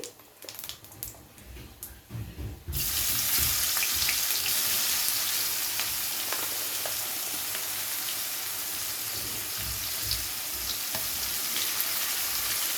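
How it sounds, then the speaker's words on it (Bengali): Cumin seeds sizzle loudly in hot oil while being stirred, a steady crackling hiss that starts abruptly after a short quieter stretch of clinks and continues close and even throughout. "জিরেটাকে হালকা নাড়াচাড়া করে নেব তেলের সঙ্গে।"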